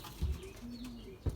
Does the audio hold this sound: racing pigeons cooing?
yes